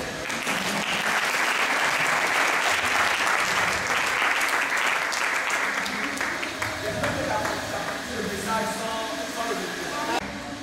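A church congregation claps and cheers in praise, a dense, loud, sustained wash of applause that fills the whole stretch, with music and voices rising beneath it toward the end.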